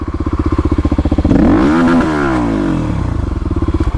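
A stage 3 Kawasaki KLX351 dirt bike lugs uphill in second gear on an off-road trail. The engine thumps loud and close in a low, pulsing rhythm that swells into a strained, rising rev midway and then settles back to steady thumping.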